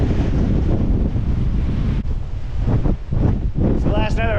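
Strong Hurricane Ian winds of about 35 knots roar across the mic alongside breaking waves at Islamorada in the Florida Keys, a loud continuous rush with someone talking over it near the end.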